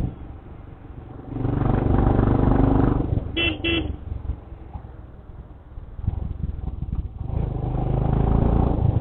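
A vehicle engine labouring up a hill road with hairpin bends toward Yercaud, a steady loud drone that swells and eases as it climbs, with a brief horn toot midway.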